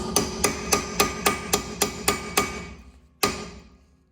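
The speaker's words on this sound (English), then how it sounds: "he's gonna hammer this really hard with a hammer to loosen it" Steady hammer blows ring out on metal, about nine evenly spaced strikes on a rear brake part of a 2010–2016 Hyundai Elantra, a brief pause, then one final hard hit that rings and fades.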